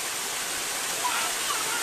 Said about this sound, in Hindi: झरना का आपको आवाज सुनाई दे रहा होगा।